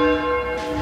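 A church bell at Yatesbury, swung by rope from a bell tower, rings one loud sustained clang that hums and slowly decays.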